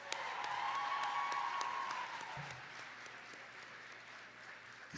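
Applause from a gala audience fills the first half, loud and dense, then thins into scattered claps and fades toward the end.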